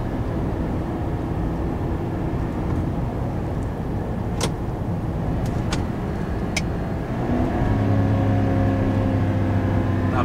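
A 2024 Chevy Silverado 3500 with the gas L8T V8 drones steadily while towing a fifth wheel at about 45 mph, then shifts down into second gear near the end, the engine note rising and firming into a louder, steadier hum.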